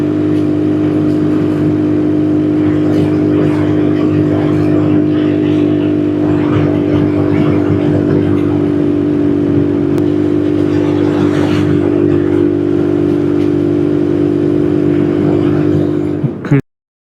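A small 125cc air-cooled scooter engine drones steadily and loudly up close while riding, with wind buffeting over it, then cuts off abruptly at the end.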